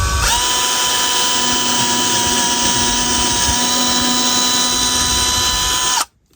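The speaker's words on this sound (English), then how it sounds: "I also need to drill the hole for the frog feed" A power drill whines at a steady high pitch while boring a hole for a model railroad turnout frog feeder wire, running continuously then stopping abruptly near the end.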